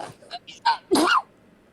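A short, close human sneeze at a tabletop role-playing game session, a burst that follows a couple of small breathy sounds and then cuts off into quiet.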